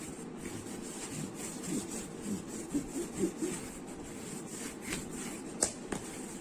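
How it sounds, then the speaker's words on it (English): A bone folder rubs firmly over folded paper for a mini album, making soft, uneven scraping and swishing strokes in short bursts, close and fairly quiet. "just burnish this down, guys, until it sticks. Use your bone folder."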